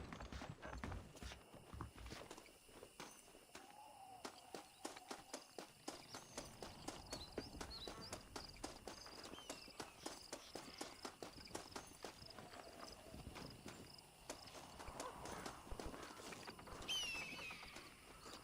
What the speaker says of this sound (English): Okay, there's the horse.